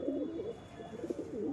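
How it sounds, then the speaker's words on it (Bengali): A pigeon coos softly in repeated low, burbling phrases, faint and close, with no talking. "এই যে পায়রাটা আসছে"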